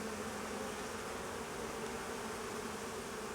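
Bees buzzing around an open beehive, a dense, steady hum of many insects, close and continuous, with no talking.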